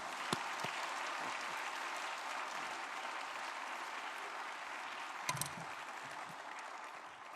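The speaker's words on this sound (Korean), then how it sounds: "여러분 박수로 맞이해 주십시오." A church congregation applauds to welcome a pastor, a steady and fairly faint wash of many hands heard from a distance. A few sharper, louder claps stand out near the start and again later.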